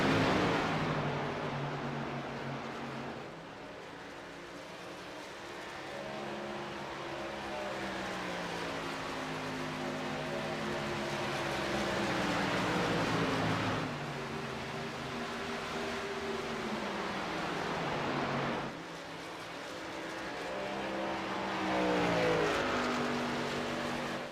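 Race trucks at Homestead, engines droning through repeated rising and falling passes as they rev up and shift through gears, close and loud, alone with no talk.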